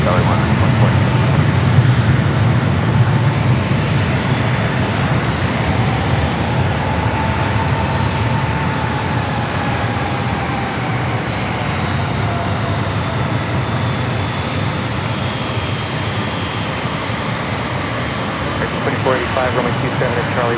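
Jet airliner taking off from runway 27 at San Diego airport, a steady broad roar that holds loud for the whole stretch, with a faint tone slowly sliding beneath it as the aircraft accelerates.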